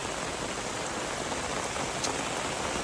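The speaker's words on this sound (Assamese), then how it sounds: "সিমানেই ডাঙৰকৈ বৰষুণটো দি আছে" Heavy rain pours down steadily in a flood-hit village, a dense, loud, unbroken hiss with no voices.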